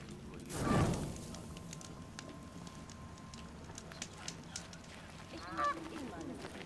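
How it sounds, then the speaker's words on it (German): A turkey gobbles in the video game Horizon Zero Dawn: a loud, close, honking burst near the start and a shorter, fainter call later, set against quiet outdoor game ambience. "Ich sehe einen Truthahn."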